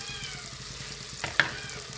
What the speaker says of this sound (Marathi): कांदा चांगला जरा ब्राऊन होतो, हलवून जाते पण चांगलं।